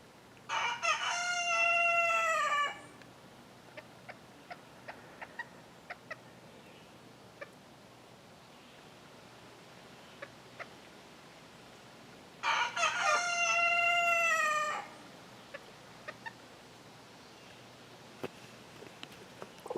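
Backyard chickens in a yard: a rooster crows loudly twice, about ten seconds apart, with sparse faint clucks and small scratching sounds in between, no talk.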